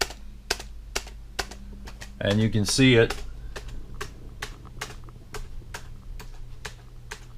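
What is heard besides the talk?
tapping a computer keyboard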